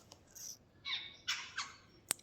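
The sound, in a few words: crows cawing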